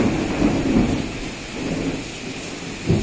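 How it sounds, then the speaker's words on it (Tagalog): Heavy rain pours steadily in a sudden downpour in Malaysia, with low rolling thunder rumbling beneath the constant hiss and a brief louder swell near the end. "Ngayon biglang umulan ang lakas."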